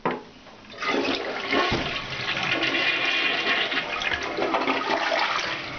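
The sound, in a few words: flushing a 1.6 gallon-per-flush toilet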